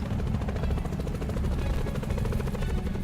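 A helicopter in a video game thrums steadily with a dense rotor chop and a loud engine drone, filling the whole stretch without pause.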